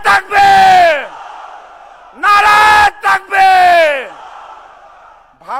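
Crowd at a political rally chanting the slogan Naraye Takbir, with several loud, drawn-out unison shouts in bursts separated by short pauses.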